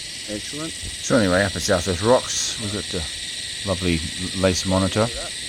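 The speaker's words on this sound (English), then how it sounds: "and the omnipresent cicadas." Cicadas drone at South West Rocks, Australia, as a continuous high, shrill buzz in the background while someone talks over it.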